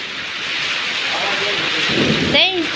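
Heavy rain driven by a windstorm pelts a village home, a dense steady roar filling the whole clip, with a voice breaking through briefly near the end.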